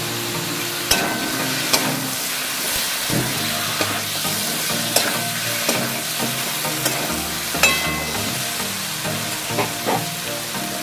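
Jackfruit and shrimp curry frying in a pan with a bright, dense sizzle and a steady run of stirring scrapes and utensil knocks against the pan, loud and close with no voices.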